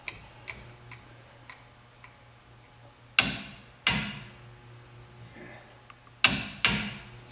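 A torque wrench clicks while axle bolts are tightened during a Sterling 10.5 axle rebuild on a Ford F-250/F-350. There are two pairs of sharp, close metallic clicks, with fainter small taps between them, in an otherwise quiet shop.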